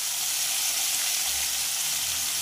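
Lote, or Bombay duck, fish frying in a pan gives a steady, close hiss and sizzle of hot oil that holds constant throughout, with no voices.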